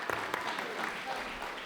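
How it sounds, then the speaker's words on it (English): Audience at a school board meeting applauds and cheers, with a steady wash of clapping and voices close by. "We're all cheering"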